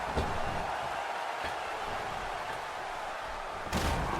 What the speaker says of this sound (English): This crowd going crazy for Stone Cold Steve Austin, who wants to go to WrestleMania.